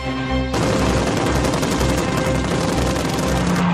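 Rapid, continuous gunfire from two Shkas machine guns and a 20mm Shvak cannon on a Soviet Yak-1 fighter, a loud, dense fusillade of overlapping shots that bursts in sharply after half a second and hammers on without pause.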